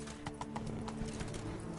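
Quick, rhythmic hoofbeats from Roach galloping in The Witcher 3 sound fairly faint against a busy game background, with a brief whinny-like tone mixed in.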